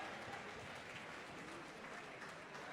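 Audience applause for sponsors at a charity auction event, a steady, even wash of many hands clapping, fairly faint and distant, continuing without pause.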